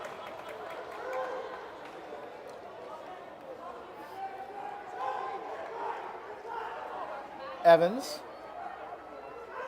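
Nervous murmuring of an arena crowd at a Six Nations Chiefs versus Peterborough Lakers lacrosse final, a steady low hubbub under a commentator's voice, with a brief louder burst near the end.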